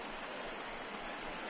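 Steady crowd applause and cheering from the stadium in the baseball video game MLB The Show 20, a dense, even wash of clapping filling the whole stretch with no pauses.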